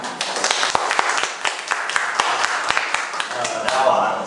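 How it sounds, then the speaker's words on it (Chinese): An audience at a Kaohsiung meetup of two-minute self-introductions gives a dense, steady round of clapping to welcome the next speaker, with sharp individual claps standing out from the crowd and a light murmur beneath. "我们掌声欢迎他。"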